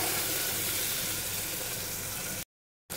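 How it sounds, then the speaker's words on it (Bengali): Chopped tomato frying in a pan gives a steady, dense sizzle that holds evenly, close and moderately loud, then cuts off abruptly, with no talking. "দেখুন, টমেটোটা ভাজা ভাজা করতে হবে।"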